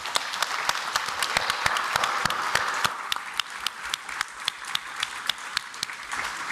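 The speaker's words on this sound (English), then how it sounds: "I think we should all give her a round of applause" An audience at an anniversary celebration event applauds, a full burst of clapping that thins out into scattered, distinct individual claps toward the end.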